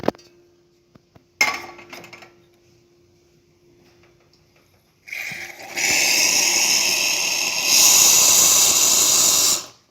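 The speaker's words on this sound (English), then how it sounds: "And let's test hot water quick." A Rocket R58 espresso machine with a low-pressure fault first clicks and clinks, then dispenses hot water with a loud, steady rushing hiss that swells and holds to the end; no talking.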